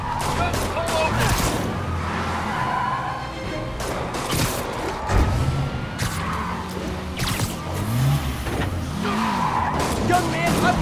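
Tires skid and squeal again and again during a car chase in the Spider-Man video game, with roaring engines, crashes and game voices talking over the action.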